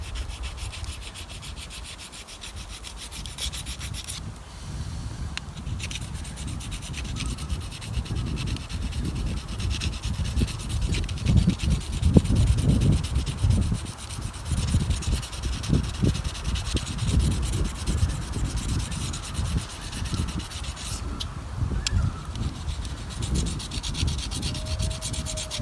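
A knife blade is drawn over a coarse diamond hone, making a continuous close gritty rubbing and scraping that runs steadily with slight variations in intensity.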